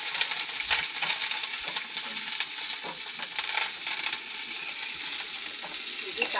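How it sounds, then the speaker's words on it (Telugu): Curry leaves frying in hot oil, a loud, close crackling sizzle with sharp spattering pops and stirring sounds throughout, no voices. "కరివేపాకు కూడా బాగా వేపాలి"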